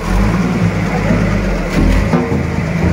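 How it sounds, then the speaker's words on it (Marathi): A water tanker truck rumbles on a road during a village festival procession, its engine a loud, close, steady drone that swells slightly midway, with faint voices mixed in. "पाण्याची गाडी देखील आली आहे रस्त्यावरती पाणी मारायला"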